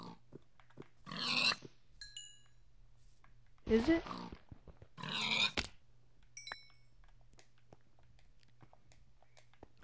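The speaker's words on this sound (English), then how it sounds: "I said I was gonna kill some sheep and I'm killing pigs." Pigs being killed in a video game let out a few short grunting oinks spread over several seconds, with light game sound effects and a person talking.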